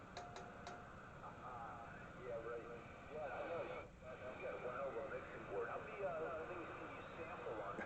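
CB radio skip reception on a vintage Cardon Spitfire II set, faint distant voices and hiss drifting in and out with fading, echoing transmissions.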